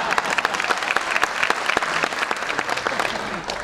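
Audience applause fills a political rally stage event, a dense steady patter of many hands clapping close and loud throughout, without talk over it.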